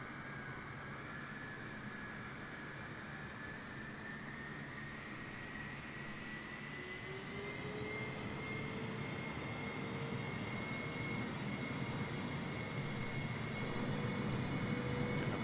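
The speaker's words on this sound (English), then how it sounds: "We're using our reverse thrusters here." A jet airliner in Microsoft Flight Simulator runs its engines in reverse thrust on an airport tarmac, a continuous roaring whine with rising tonal layers that swells steadily louder toward the end, with no talking.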